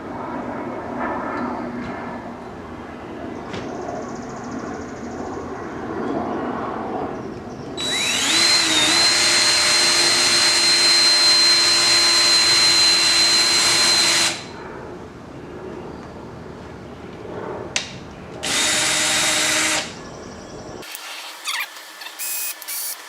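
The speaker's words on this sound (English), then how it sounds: "I'm gonna tape it up, and then we can get to drilling." A power drill bores holes to mount a front splitter on an NA Miata, running in two long loud bursts with a whining pitch that dips under load, plus a shorter burst later, separated by quieter handling noises.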